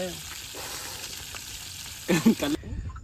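Fresh fish frying in hot oil outdoors by the sea, a soft steady sizzle with a brief louder burst of crackling near the end.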